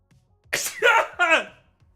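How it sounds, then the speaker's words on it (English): A close, loud burst of breathy sneezing sounds, two or three explosive pushes in a row, against a quiet background. "Hold on, I gotta sneeze."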